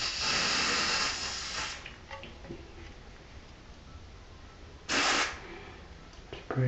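Short hissing bursts of cleaner spray inside a game console, one long spray of over a second at the start and another brief blast near the end, with quiet handling noise between.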